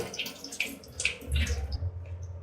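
Cold tap water splashes and pours over curdled milk being rinsed in a strainer, a steady close wash that thins out toward the end.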